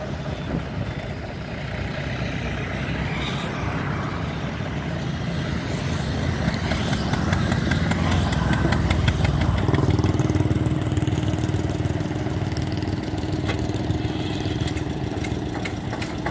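Several self-start tractors lined up with sugarcane trolleys start and idle, a steady loud diesel rumble that swells slightly midway and continues without speech.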